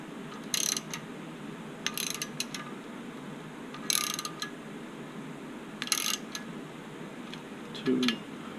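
Ratchet clicking in short bursts while bolts are tightened on a Mazdaspeed 6 2.3 MZR engine during a forged build, five or six quick clicking runs spaced about a second apart, close and clear with no talk.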